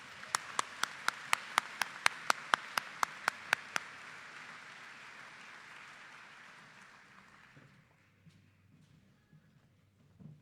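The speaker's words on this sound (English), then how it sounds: "Let's get one more big round of applause for Rhonda" A commencement ceremony crowd applauds: loud, fast rhythmic claps ring out close by over a broad wash of audience clapping, then the ovation fades to a quiet room murmur after about six seconds.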